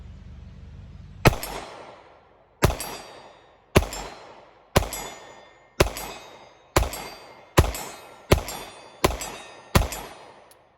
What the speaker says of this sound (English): that was 10 out of 10 with this pistol. And some of it was fairly quick shooting